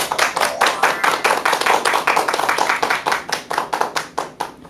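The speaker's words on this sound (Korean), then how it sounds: "큰 박수 부탁드립니다." Audience applause at a Korean lecture on hormone health, a dense steady run of many hands clapping close by with no talk, tapering slightly toward the end.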